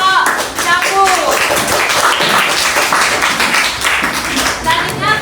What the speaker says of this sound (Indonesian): Tepuk tangan untuk kelompok capung.